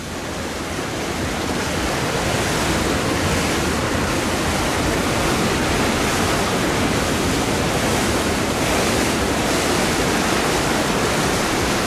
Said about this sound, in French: Regardez la vitesse impressionnante de la rivière ce matin.